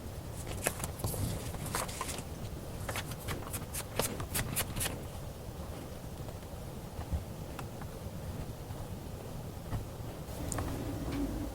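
Tarot cards are shuffled close up in a quiet room: a quick series of crisp riffling flicks early on, then softer, continuous card sliding with occasional light snaps.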